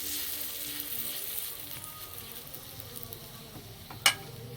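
Semolina batter laid on an oiled griddle for a potato-stuffed snack, frying with a steady, soft sizzle that holds alone throughout, with a sharp tap near the end.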